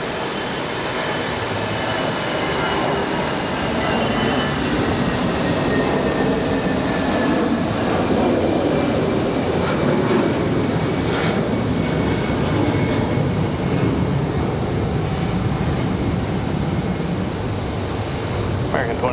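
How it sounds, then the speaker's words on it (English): Airbus A320 jet departing Raleigh Durham airport, a steady broadband engine roar holding loud for the whole stretch, heard from a distance with a hint of voices underneath. "No, this one's an A320."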